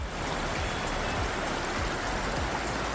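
Creek water at Blackwater Falls rushes steadily over rocks in a dense, continuous wash, heard up close from the middle of the creek bed with no talking.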